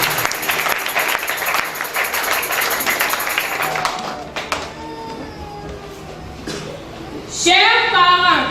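Audience applauding a child at a Sunday school children's skit in a church, strong clapping that fades midway, leaving a quieter room with tonal sounds and a burst of voices or music at the end.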